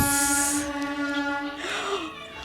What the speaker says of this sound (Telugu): ఇది ట్రైన్ వినిపిస్తుందా పోతుంది, చాలా గట్టిగా వస్తుంది.